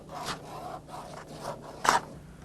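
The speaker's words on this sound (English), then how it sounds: "to come in now and cheese grade or file this one to save us a lot of sanding time again" Body filler on a car panel being cheese-grated with a file about ten minutes after application, giving four separate rasping strokes, the last one louder and sharper, close and with no talk.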